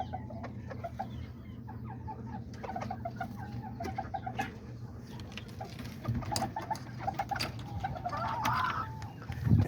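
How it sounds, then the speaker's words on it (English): Two small pumpkin hens and a rooster cluck in a backyard poultry pen, with short repeated clucks and calls rising over a steady low hum and scattered nearby rustling. "those are the two little pumpkin hens he has"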